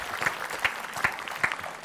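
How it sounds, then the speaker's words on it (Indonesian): A live studio audience gives a short round of applause, with rhythmic, evenly spaced clapping accents pulsing through a steady crowd clatter. "Tepuk tangan."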